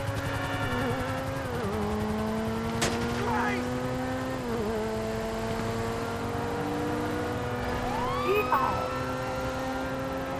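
Police siren wailing continuously in GTA Online, its rising and falling tone sweeping near and steady for the whole stretch, with a vehicle engine running underneath.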